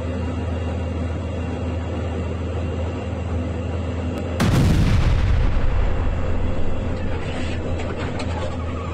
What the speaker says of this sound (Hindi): रूसी टैंक से यूक्रेनी टैंक पर अटैक किया, दोनों ओर से जबरदस्त गोलाबारी।